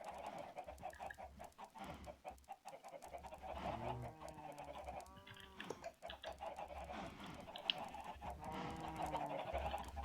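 Chickens cluck and squawk in Minecraft, several close, distinct calls over a steady low background hum.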